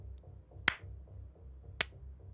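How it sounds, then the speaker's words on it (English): Two sharp, isolated claps spaced about a second apart, crisp and fairly close, over a low steady hum and faint background murmur. "And clapping starts coming from around a corner."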